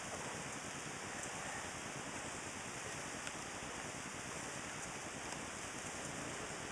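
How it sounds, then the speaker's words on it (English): Heavy rain pours steadily outdoors at a park, a dense, even hiss of drops hitting surfaces with no break, moderately loud and unaccompanied by voices. "It's pouring down rain out here right now."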